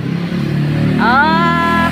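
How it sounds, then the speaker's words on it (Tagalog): A motorcycle passes close by on a road in Laguna, its engine revving up with a rising whine over steady traffic noise, and a voice speaks briefly before it. "May motor."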